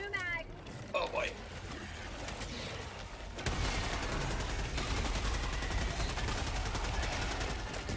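Rifle fire in the video game Helldivers 2 rattles off in a steady, dense burst under continuous game noise, with a brief voice and chatter early on.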